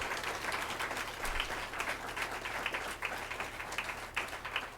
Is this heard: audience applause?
yes